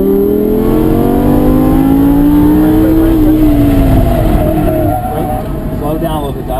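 A Lamborghini on a race track, its engine pulling hard and rising in pitch, then easing off near the end, loud and close from inside the car, with an instructor talking over it.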